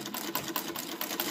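A treadle sewing machine driven by a foot pedal stitches steadily, its quick even needle clatter repeating at a brisk regular pace, close and alone.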